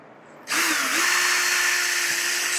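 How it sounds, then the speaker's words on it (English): A power drill bores bolt holes for mounting a Ryobi BS904G band saw, starting abruptly after a quiet moment and then running as a loud, steady close whine for about two seconds. "We'll go ahead and just mark the spots here where we're going to pre-drill or tap"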